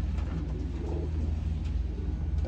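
A racing pigeon coos softly close by, a low, rounded murmur repeated a few times over a steady low rumble of background noise.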